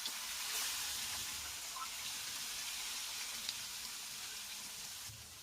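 Fish pieces frying in oil until golden, giving a soft, steady hiss and sizzle throughout, faint and somewhat distant, with no voices.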